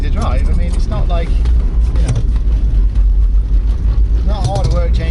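A Volvo C303 TGB 11 Swedish Army military vehicle driving, its engine a loud, steady low rumble with cabin rattles throughout, while people talk over it.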